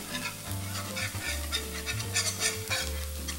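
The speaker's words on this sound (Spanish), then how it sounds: "Y seguimos revolviendo este roux" A roux of flour and fat being stirred in a hot pan after salt and pepper go in, with a steady sizzle and scraping strokes over a low hum, no talking.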